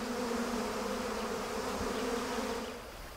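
A dense swarm of angry honey bees buzzing loudly and continuously close by, a steady droning hum with no voices.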